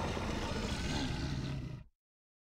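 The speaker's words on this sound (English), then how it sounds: "And then you have bear roar." A bear roar sound effect for a fantasy role-playing game forest setting, one loud, rough, sustained growling roar lasting under two seconds before cutting off abruptly into silence.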